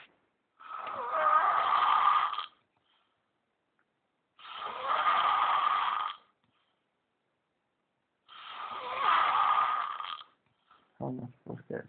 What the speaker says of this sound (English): You snore like the devil.